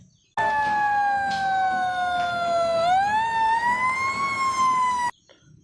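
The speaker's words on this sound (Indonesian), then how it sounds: "ini truk pemadam kebakaran" A loud electronic fire truck siren wails steadily, its pitch sliding down and then back up, starting and stopping abruptly like a toy.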